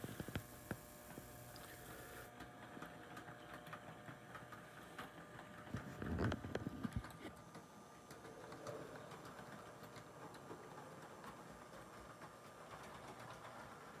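An American Flyer model electric train, the 360 Royal Blue, hums and rattles steadily along its track, a continuous mechanical whir with a brief louder clatter partway through.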